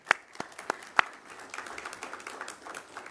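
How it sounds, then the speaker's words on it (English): An audience at a National Health Care Initiative announcement in Guyana breaks into applause, starting with a few sharp separate claps that blend into softer, sustained clapping. "A round of applause, please."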